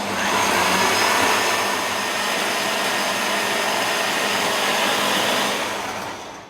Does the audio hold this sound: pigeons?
no